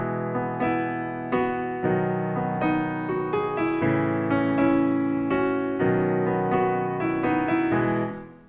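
Solo piano playing a song with straight, evenly spaced eighth notes over sustained chords, steady and close, with no voice.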